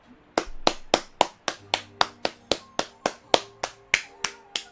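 Hands clap in a steady, evenly spaced run of about fifteen sharp claps, close and fairly loud, with no talking over them.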